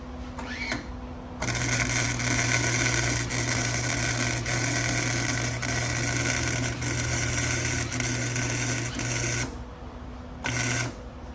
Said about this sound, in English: A couple beads on this outside lip, and I think we should have enough weld here to pull that stud.